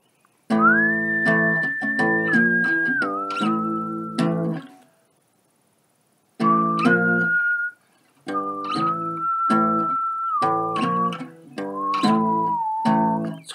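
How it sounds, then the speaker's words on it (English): Someone whistles a melody up close in short phrases, sliding between held notes, pausing briefly in the middle before carrying on. "I was whistling it, but it's kind of easier to hum."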